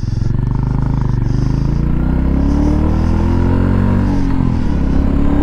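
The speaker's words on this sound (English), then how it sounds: "349cc, single overhead cam engine" A 349cc single-cylinder, single overhead cam Royal Enfield Meteor motorcycle engine idles loudly up close, its steady thumping pulse rising slightly in pitch as it revs gently.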